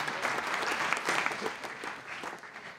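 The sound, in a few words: audience applause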